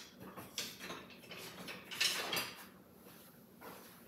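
A wooden spoon stirs thick cheesy queso in a crockpot, giving soft scraping and thick goopy clicks in irregular strokes, with one or two louder scrapes partway through.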